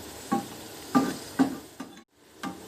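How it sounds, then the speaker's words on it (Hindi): Onions in hot oil over medium heat, cooked until crispy, crackle and sizzle in short bursts while being stirred, with four or five rhythmic scraping strokes against the pan. "उसके बाद अभी भी ये मीडियम ही आंच है जिसके ऊपर हम इसको कर रहे हैं, ताकि ये बिल्कुल क्रिस्पी प्याज बने।"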